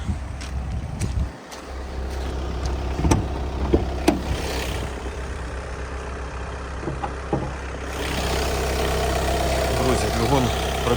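A Skoda Octavia A7 facelift engine idles steadily with a low, even hum, recorded up close from the engine bay, with a few light clicks and knocks and a rise in broadband noise near the end.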